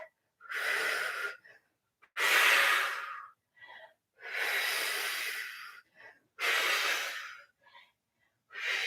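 Heavy, forceful breathing during an ab workout: about five long, loud exhales, each a second or more, spaced by short pauses with fainter quick inhales, close to the microphone.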